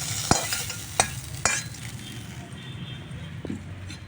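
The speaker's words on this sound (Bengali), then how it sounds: "কাঁকড়াটাকে লাল লাল করে একটু ভালো করে ভেজে নেব।" Crab pieces frying with turmeric and salt in mustard oil in a pan, stirred, with a steady close sizzle broken by a few sharp scraping clanks of the spatula.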